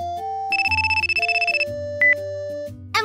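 Phone ringback and dial tones sound as a call is placed, a steady electronic ringing pattern with beeps, alone and fairly loud, ending in a click.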